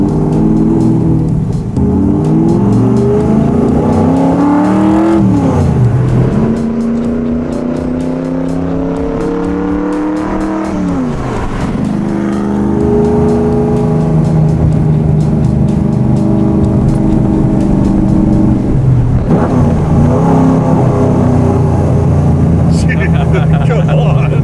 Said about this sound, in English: The throttle response, it revs quick, huh? Boy, does it just snaps quickly.